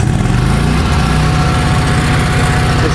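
An ESAB Ruffian 270 engine-driven welder running at full throttle right after startup, a loud, close, steady engine roar with a fast rhythmic low-end chug throughout and no voices over it.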